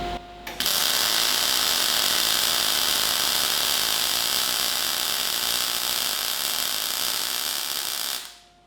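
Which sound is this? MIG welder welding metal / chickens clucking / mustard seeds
MIG welder welding metal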